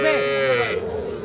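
Cattle at Ambari haat, a livestock market selling small bull and heifer calves, let out a single loud, close moo lasting just over a second.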